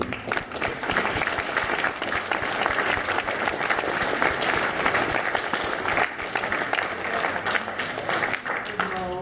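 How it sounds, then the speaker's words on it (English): A large crowd applauds the Furlandia convention staff at the closing ceremony, sustained enthusiastic clapping that stays strong and even for several seconds, with scattered voices and cheers mixed in before a faint tone at the end. "So definitely a big round of applause for them."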